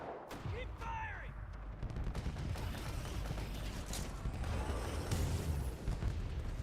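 Rapid gunfire and explosions fill a busy video-game battle, with dense bursts of shots, booms and whizzing effects continuing throughout the clip, fairly loud and close.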